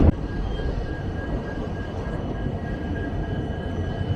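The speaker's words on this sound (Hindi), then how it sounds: "अच्छी खासी रफ्तार हमारी ट्रेन ने गुत्ती से निकलते निकलते ही पकड़ लिए" A train running at speed near Gooty, a continuous close rumble and rolling roar of wheels on track, steady and loud throughout with no voices.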